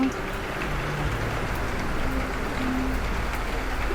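Steady rain patter, a constant hiss of drops on a surface with faint low hum beneath, no clear voices.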